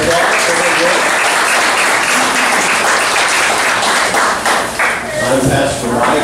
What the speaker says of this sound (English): Can you give Carol Middleton and Bonnie Kick a round of applause for their work?